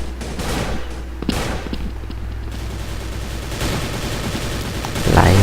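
Rapid bursts of gunfire crackle through close-quarters combat in a shooter video game, steady volleys with a louder blast at the end, under faint voice chat.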